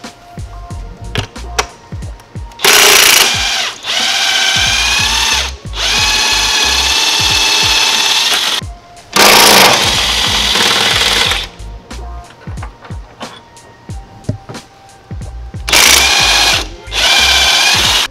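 An impact gun rattles upper torque mount bolts loose in several loud, harsh bursts of a few seconds each, separated by clanks and tool handling, with no one speaking.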